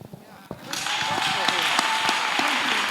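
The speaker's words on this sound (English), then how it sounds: "Clap for him." An audience bursts into applause at a talk, rising from brief speech into a dense, sustained wash of clapping that holds steady to the end.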